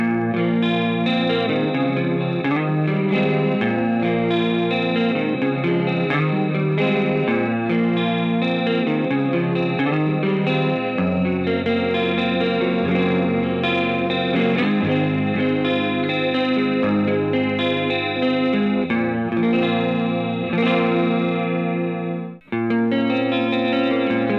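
An electric guitar strums sustained chords through an Azor analog chorus pedal, drenched in a shimmering, warbling effect, loud and continuous, ending in a brief cut before resuming.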